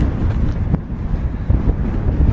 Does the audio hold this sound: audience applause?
no